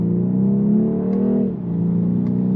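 A BMW 220i Coupe with a B48 engine revs up steadily under acceleration, its engine note dipping briefly at a gearchange before climbing again, heard close and fairly loud with no talking.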